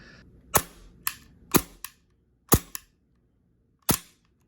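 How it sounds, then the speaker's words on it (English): A Coolfire trainer pistol firing with its slide recoiling, five sharp close snapping shots, each with a quick mechanical clack just after, spaced irregularly over a few seconds. "Every time this gun fires, it will recoil the slide."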